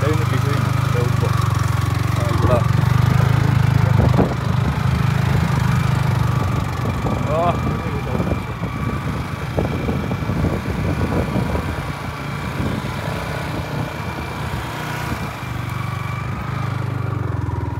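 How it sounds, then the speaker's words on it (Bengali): A motorcycle labors up a hill on red earth in hilly Srimangal, its engine a steady, close, rumbling drone that lasts throughout while people talk over it. "এই যে অবশেষে উঠে মানে চলে আসলাম বাইক নিয়ে।"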